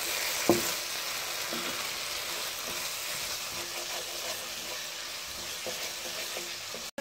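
A spoon stirs masala with boiled potatoes frying in ghee, giving a steady close sizzle with occasional scraping taps against the pan, one sharper knock near the start.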